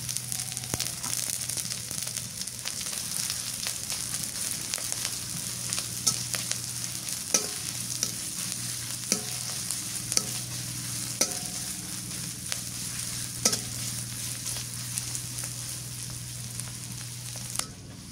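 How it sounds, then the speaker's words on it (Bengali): Chopped onion and green chili fry in hot oil, a steady close sizzle with occasional stirring clicks and scrapes running the whole time, no voices. "পেঁয়াজ আর মরিচটা তেলের মধ্যে ভালো করে ভাজা নিয়ে"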